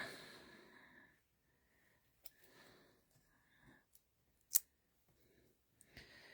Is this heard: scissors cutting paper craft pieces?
yes